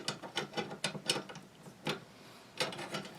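Metallic clicks and sliding clacks come from an M10X-Z rifle bolt carrier guided along its rails and locking into place, a short, close series of sharp mechanical snaps.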